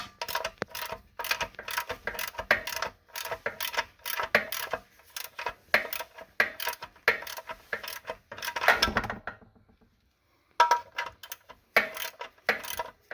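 A drain bolt on a Massey Ferguson tractor is worked loose with a ratchet, rapid metallic clicking bursts repeating close by, pausing briefly before resuming; no talk.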